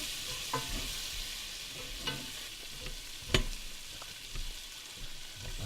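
Chopped onions sweat gently in a pan over low heat on a campervan stove by the beach, with a soft, steady sizzle under occasional clicks and scrapes of stirring.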